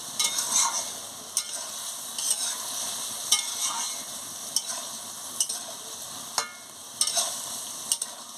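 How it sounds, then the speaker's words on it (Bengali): Ridge gourd and green chillies are stirred in a hot pan, with a steady close sizzle broken by repeated sharp scrapes and clacks of the spoon against the pan. No one speaks. "নাড়াচ্ছি।"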